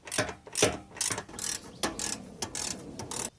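Ratchet wrench removing headlight bolts on a Nissan 240SX, a close, rapid series of clicking strokes in short bursts with brief pauses, no talking.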